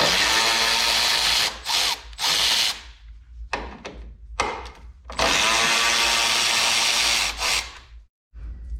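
A power driver fitted with a T40 Torx bit spins out bolts on a 2007-18 Jeep JK, giving several loud whirring bursts separated by short pauses and faint clicks.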